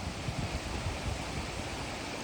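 An Icelandic waterfall pours in a constant, full-bodied wash of white noise with a soft low rumble underneath, steady and continuous with no voices.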